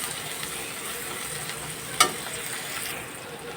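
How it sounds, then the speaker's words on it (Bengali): Salted onions fry in a pan with a steady, close sizzle, light crackling and one sharp pop partway through. "এই তো বন্ধুরা, পেঁয়াজগুলো হালকা ভাজা হয়ে গেল"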